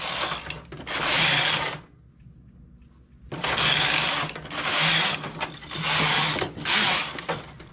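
A knitting machine carriage sweeps back and forth across the needle bed while decreasing on the last needle of a knitted vest with sleeves, giving three long, loud mechanical whirring passes separated by a quiet pause.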